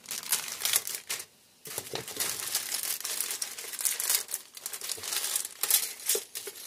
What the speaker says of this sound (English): Go ahead and cut this open.